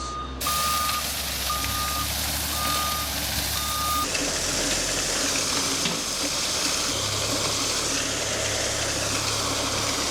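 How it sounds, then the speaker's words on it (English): A dump truck delivering a first 10-ton load of gravel to a landscaping site backs up with steady reversing beeps over its idling diesel engine, then the beeping stops and the engine rumbles on. "Here's the gravel, first load, 10 tons."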